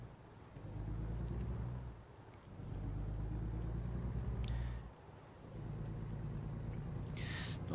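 A heavy truck engine in American Truck Simulator drones low and strained while climbing, surging in long sustained pushes with brief dips between, faint and muffled, with a couple of higher hissing bursts.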